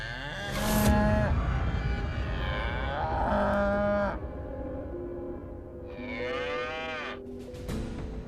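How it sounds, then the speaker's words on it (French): A cow moos several times indoors, long deep drawn-out lowing calls rising and falling, loud and close with short pauses between them. "Ramlal, comment cette vache est-elle entrée ici?"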